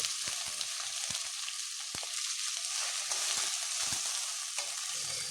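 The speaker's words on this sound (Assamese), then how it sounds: "তাৰপিছত মই ভেন্দিখিনি 2-3 ছেকেণ্ডৰ কাৰণে ভাজি কৰিম।" Okra frying in a pan over a low gas flame with cumin seeds and green chillies, giving a steady bright sizzle with occasional crackles and stirring knocks, alone and close.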